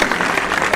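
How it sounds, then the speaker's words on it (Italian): Dense applause from a crowd plays as a background effect during a tasting at LIDO 84, a Michelin-starred restaurant, a steady wash of clapping that runs through the whole short moment. "Voglio gli applausi in sottofondo,"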